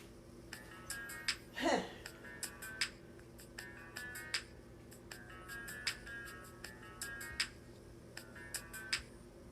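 A mobile phone sounds a melodic ringtone or notification, repeated bright chiming tones in short bursts over faint room noise, with a brief sweeping rising sound early on.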